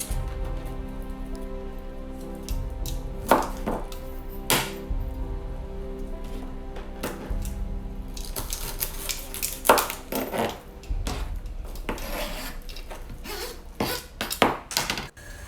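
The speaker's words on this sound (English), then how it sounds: "I'm just going to be cutting off the end. Cut off the ends of each of these." Knife chopping the ends off fresh asparagus on a board, a series of sharp, irregular cuts and knocks close by, with pan and utensil clatter in between and no talking.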